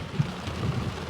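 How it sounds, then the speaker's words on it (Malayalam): Heavy rain pours steadily outside a bank, a dense continuous hiss with faint low rumbles and no voices. "ഭയങ്കര മഴ ഒന്ന് ശമിച്ചതിന് ശേഷം വേണം പുറത്തോട്ടൊന്ന് ഇറങ്ങാൻ"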